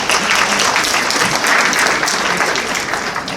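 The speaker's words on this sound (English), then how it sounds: "Just give a big round of applause to her." An audience at an award ceremony for donors and volunteers breaks into loud, sustained applause, dense clapping that holds steady for a few seconds before easing slightly at the end.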